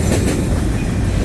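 CN freight train rolling past, with the rebuilt C44ACM locomotive 7303 near the front: a steady, loud rumble and rattle of wheels and cars, with no break through the short stretch.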